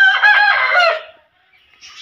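A rooster lets out a single loud, close crow lasting about a second, followed by silence and a faint short sound.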